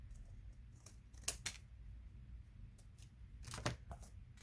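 Scissors trim the excess from an altered composition notebook cover: a few soft, quiet snips and paper rustles over a low background hum.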